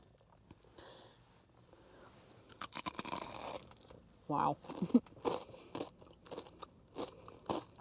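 Crisp tater tots with tomato jam being bitten and chewed, irregular crunches growing louder and more frequent, with a brief spoken exclamation and some breathing in between.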